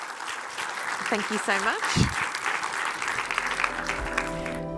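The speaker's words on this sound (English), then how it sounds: "please give a big round of applause to our panel." Audience applause for a tax panel at a revenue summit, a steady wash of clapping that runs the length of the clip while someone speaks briefly over it near the start.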